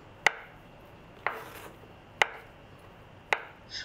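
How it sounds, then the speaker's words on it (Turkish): Knife chopping boiled potatoes into cubes on a cutting board at home: four sharp, separate chops spaced about a second apart, close and clear over a quiet background. "Haşladığım patatesleri küp küp olacak şekilde doğruyorum."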